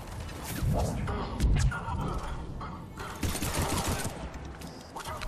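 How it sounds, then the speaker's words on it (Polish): Pistol fire in a Mass Effect 3 combat scene sounds as rapid bursts of shots amid mechanical clatter and shattering, busy and loud throughout, with a voice speaking over the action. "Jak ten pistolet szyje"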